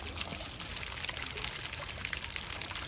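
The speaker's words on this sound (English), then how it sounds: "Every garden needs a fountain or two, some running water." A garden fountain in a botanical garden in Rome, Italy, its running water making a steady, even splashing and trickling wash that stays constant throughout at moderate level.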